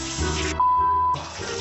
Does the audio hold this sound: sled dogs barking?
no